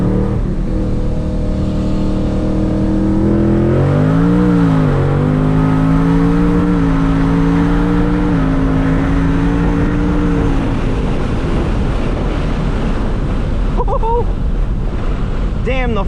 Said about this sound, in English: Try and roll into it from third and just let the car do what it does.